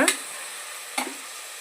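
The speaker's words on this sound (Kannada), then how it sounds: "ನಾವು ಫ್ರೈ ಮಾಡ್ಕೊಳಕ್ಕಾಗುತ್ತೆ ನೋಡಿ ಶುಂಠಿ ಬೆಳ್ಳುಳ್ಳಿ ಪೇಸ್ಟು ಹಾಕ್ತಾಯಿದ್ದೀನಿ ಟೊಮೊಟೊ ಜೊತೆಗೆ" Ginger garlic paste fries with tomato in a pan: a brief hiss of sizzling oil broken by two quick scraping stirs, close and clear, with no voices.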